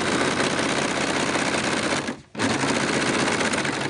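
Overlock serger stitching along the edge of a tapestry fabric, a loud, dense, rapid mechanical whir running continuously, briefly stopping for a moment, then starting again at full speed.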